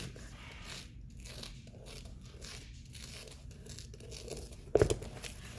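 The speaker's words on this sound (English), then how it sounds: "I just want to make sure that I don't go too far and cut the" A knife slices through headliner fabric around a car roof rack cutout, giving soft scraping and tearing textures with a brief louder crunch near the end, close by with no talking.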